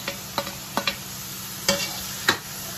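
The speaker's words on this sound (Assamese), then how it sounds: "অকণমান মাত্ৰ এনেই তেলতে অকণমান মাত্ৰ ভাজিলেই হ'ল" Coriander leaves with carrot, cabbage, capsicum and chillies frying briefly in oil, a soft sizzle broken by five or six sharp spatula scrapes against the pan, close and without talk.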